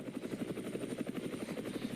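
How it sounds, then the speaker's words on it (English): U.S. military heavy-lift helicopter thumps overhead in a fast, steady rotor beat, moderately loud and continuous with an engine whine underneath. "The U.S. military uses this helicopter for troop transport, special forces insertion, casualty evacuation, and to lift heavy vehicles like trucks."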